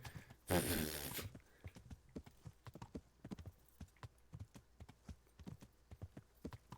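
A horse's hooves clip-clop at a steady walking rhythm in the video game Kingdom Come: Deliverance. The footfalls are close and fairly quiet, with a brief loud rustle near the start. No speech is heard.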